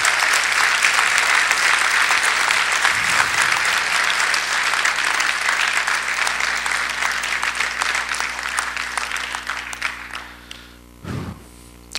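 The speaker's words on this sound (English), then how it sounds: "Give the Lord a hand clap for him." A church congregation claps for an elderly man, a dense, loud burst of many hands that holds steady for about ten seconds, then thins and fades, with a brief final flurry near the end.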